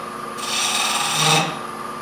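A lathe tool scrapes and smooths the inside of a turned wooden box, making a brief, close rasping hiss that swells for about a second and then fades back to the steady hum of the spinning lathe.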